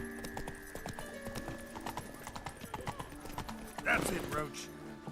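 Roach the horse from The Witcher 3 trots with steady, fairly close hoof clip-clops on a hard surface, with a brief whinny near the end and a voice speaking over the steps.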